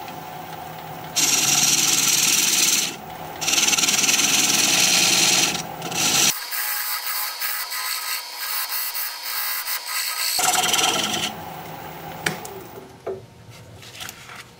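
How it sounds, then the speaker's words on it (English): Wood lathe spinning a thin wooden slab while a recess tool cuts a dovetail on its outer edge, scraping cutting bursts starting and stopping between quieter motor hum, close and fairly loud. "I'm going to use my recess tool to put a dovetail on the outside edge of that"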